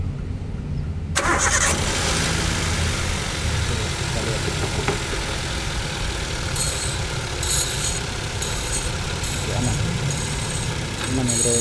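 Starter motor cranking an engine on a test run after its carbon brushes were replaced, giving a sustained mechanical whir with engine noise over about eleven seconds while a voice talks over it.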